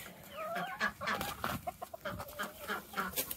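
Several chickens cluck and chatter nearby in short, irregular bursts, with no talking.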